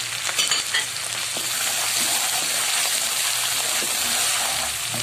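Garlic-ginger paste and spices frying in a pan for fish curry give off a loud, continuous sizzle with steady hiss and small crackles throughout, with no talking.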